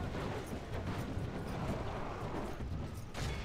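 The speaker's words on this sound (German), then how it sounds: "die Kanonen dürfen auf das nächste Segment feuern" Heavy cannon fire in Medieval II: Total War, a siege assault: dense, booming blasts roll into one another in a continuous, loud rumble.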